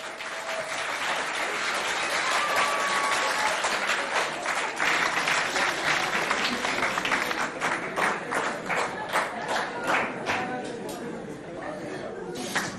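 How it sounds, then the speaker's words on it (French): A crowd at a high school competition claps loudly for the Walter Gange school, a dense roar of applause mixed with chatter that gradually thins into separate, rhythmic claps toward the end. "applaudissez pour vous"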